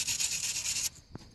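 Abrasive scuffing on an oily rubber coolant line boot, a steady, close, gritty rubbing for just under a second that stops abruptly, followed by a single soft knock.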